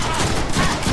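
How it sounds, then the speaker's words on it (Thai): Rapid gunfire in the Deadpool video game makes a dense, loud, continuous rattle of shots packed tightly together for about a second. "ยิงรัวๆไม่เปลืองกระสุนเลยเพราะกระสุนเยอะหรือเปล่าวะ"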